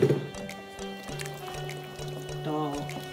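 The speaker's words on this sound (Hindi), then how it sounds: "2 मिनट हो गए तो अभी इसमें 5 कप पानी डालेंगे।" Water pours into a cooking pot for mutton biryani, five cups filling it with a rising gurgle and brief drips, close and moderately loud, with a voice nearby.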